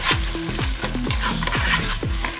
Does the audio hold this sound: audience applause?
no